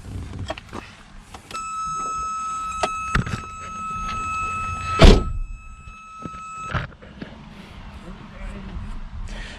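A thin electric whine with several steady tones rises from a 1970s BMW E21 once the ignition is switched on, holding for about five seconds beside a heavy thunk and some nearby clatter before it cuts off.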